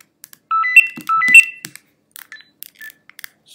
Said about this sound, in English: Sorry, that was my phone going.